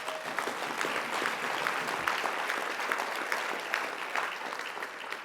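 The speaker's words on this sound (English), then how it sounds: "If that doesn't deserve a round of applause," Steady applause from a crowd at a president's update presentation, dense clapping that holds at an even level throughout without pause.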